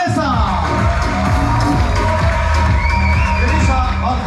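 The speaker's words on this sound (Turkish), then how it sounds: "also applause for this man, alkış for Grisha and Vanessa" A resort audience at a Miss Paradiso pageant at Hotel Club Paradiso in Alanya cheers and whoops for the contestants, a loud continuous crowd roar with a voice speaking through it.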